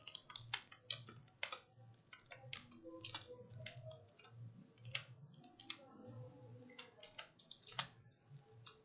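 Keys clatter on a computer keyboard in quick irregular bursts of close, crisp clicks, with a low background hum and no speech.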